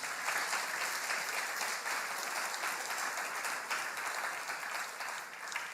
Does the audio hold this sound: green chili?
no